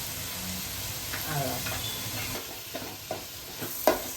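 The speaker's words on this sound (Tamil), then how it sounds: "அதையும் கொஞ்சம் நல்லா வதக்கி தீ கொஞ்சம் சிம்மிலேயே இருக்கட்டும்." A curd mixture for prawn biryani sizzles steadily in a pan as it is stirred and fried with lemon, with scraping utensil strokes and a sharp clink near the end over continuous frying hiss.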